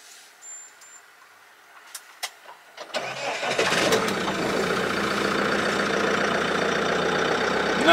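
A car engine cranks and catches after a few quiet knocks and clicks, then settles into a steady, close idle that holds to the end.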